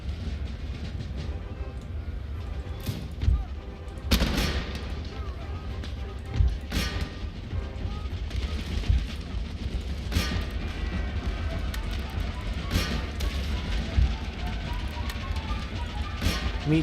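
Artillery fire on a battlefield in the strategy game Empire: Total War, with booming shots landing every couple of seconds over a steady rumbling background, while someone talks intermittently.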